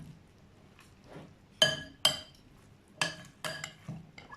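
A spoon clinks and scrapes against a bowl while chana chaat is mixed with lemon juice: a handful of sharp, close ringing taps spaced unevenly in an otherwise quiet room.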